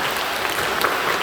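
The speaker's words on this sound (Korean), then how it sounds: "우리 박수로 환영해 주시기 바랍니다" Congregation applause welcoming three newcomers at a Sunday third service in a Korean Full Gospel church, an even spatter of many hands clapping that stays steady for the whole short stretch with no voices over it.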